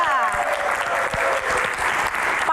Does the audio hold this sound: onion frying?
no